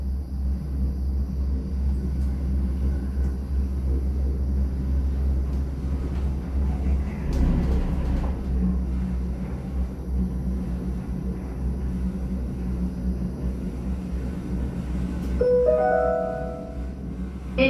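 Steady low rumble and hum of a Disney Skyliner gondola cabin gliding over Hourglass Lake at Walt Disney World Resort in the evening, continuous throughout with a brief brighter whirring near the end.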